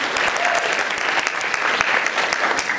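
Audience applauds a volunteer during a live stage demonstration, a steady wash of many hands clapping, moderately loud and even, with no voices over it.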